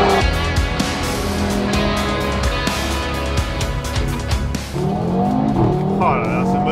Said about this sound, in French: Oh là là, ce moteur. Écoutez-moi ce son, quoi.